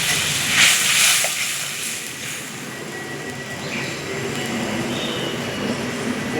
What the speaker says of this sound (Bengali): আবার জল দিয়ে দিচ্ছি।